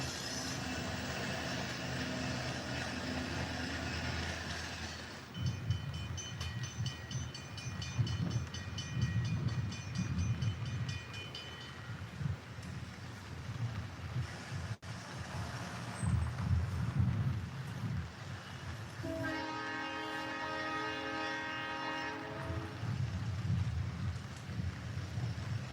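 A model train runs on a layout during a live stream, rolling with a steady low rumble and rail clatter throughout, with bursts of brighter mechanical whine and a tonal horn-like sound near the end.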